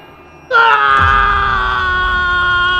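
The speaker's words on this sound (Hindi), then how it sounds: "वह बहुत जोर से चिल्लाया" A man lets out a sudden loud scream that holds on, strained and wailing, for a couple of seconds.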